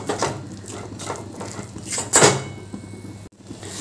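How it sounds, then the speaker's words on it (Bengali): A yardlong (asparagus) bean mixture is stirred in a pan as it dries out, with a metal spoon scraping and knocking against the pan in a few close, uneven strokes and no talking. "এইভাবে নেড়ে যেতে হবে যাতে তলায় না লেগে যায়।"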